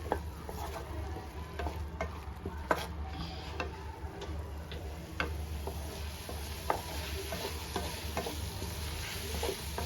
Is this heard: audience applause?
no